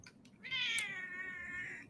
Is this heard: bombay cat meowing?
yes